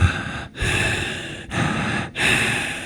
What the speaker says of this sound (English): Her chest expands and contracts to create a subtle breathing effect.